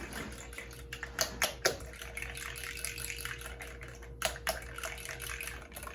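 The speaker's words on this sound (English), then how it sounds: "I'm gonna whisk the eggs up a little bit." Eggs being whisked in a bowl with quick, light clinking and rapid liquid swishing, close by, in uneven bursts over a steady kitchen background hum.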